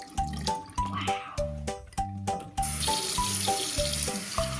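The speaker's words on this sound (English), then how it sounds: "Rinse it up." Paintbrush rinsed in a water cup, with a series of close, rhythmic clinks and swishes as it taps and swirls, followed by a steadier wash of running water near the end.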